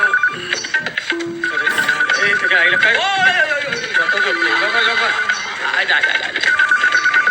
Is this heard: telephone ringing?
yes